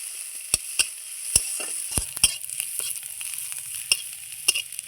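Chopped onion fries gently in a pan until golden, giving a steady soft high sizzle with a string of sharp spatula clicks and scrapes against the pan, close by and with no talking.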